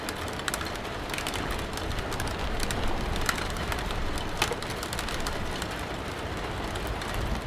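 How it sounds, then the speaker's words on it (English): Steady rain patters and hisses on surfaces, continuous and moderately loud, with a few faint bird calls mixed in. "Yeah, it's still raining."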